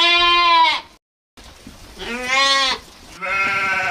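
Several sheep bleat in a grassy pasture where a shepherd has brought the flock to graze, with loud, wavering calls in three bursts and a short silent gap between the first two.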